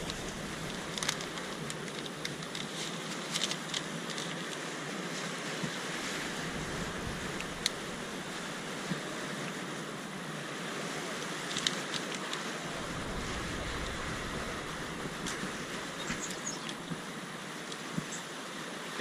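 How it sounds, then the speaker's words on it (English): Steady wind gusts against the microphone on the Aruba coast, with ocean surf rushing underneath, a constant broad roar lasting throughout with no talk. "I don't know if the wind's going to be too strong."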